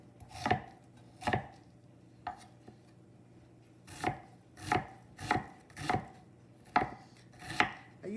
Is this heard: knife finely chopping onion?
yes